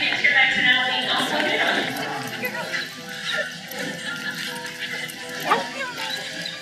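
A dog yips and whimpers excitedly at close range during a reunion with its owner, who has returned from the army, as a voice talks continuously over the sound.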